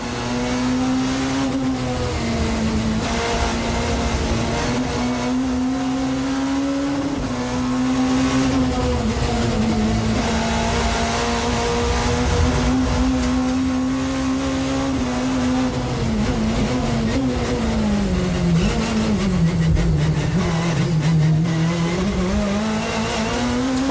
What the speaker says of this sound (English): In car with the man who unconsciously caused that accident, James Kay is now up and running